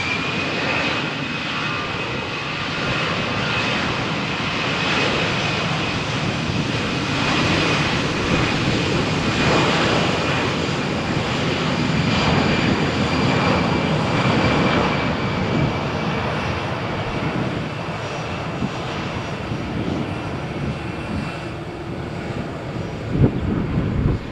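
An airplane takes off from runway 13 at Malaga Airport on a stormy morning, its engines giving a loud, sustained broadband roar that holds steady throughout, with some wind buffeting on the microphone.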